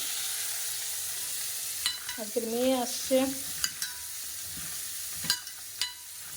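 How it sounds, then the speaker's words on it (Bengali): Bitter gourd and potato frying together in a pan, a low steady sizzle with a few sharp stirring clicks, while someone speaks briefly partway through. "করলা ভাজা করছি, আলু আর করলা সঙ্গে ভাজা করছি।"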